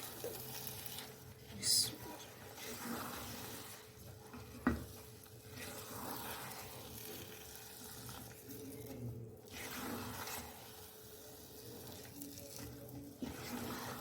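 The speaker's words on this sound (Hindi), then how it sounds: "और अब मैं इसे एक बार मिक्स कर लूँगी।" A spoon or whisk stirs an egg into a bowl for suji halwa, making soft, quiet scraping and mixing sounds with an occasional faint clink.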